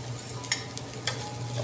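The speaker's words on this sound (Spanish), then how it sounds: "Revolvemos, agregamos nuestra zanahoria" A spoon scrapes and stirs rice with carrot in a hot pot, giving a few soft clicks and scrapes over a steady low sizzle.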